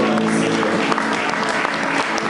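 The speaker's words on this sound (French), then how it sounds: "Est-ce que tu peux encore acclamer pour les chants?" A church congregation applauds for the songs, a dense, steady wash of many hands clapping at close range that holds evenly for a couple of seconds.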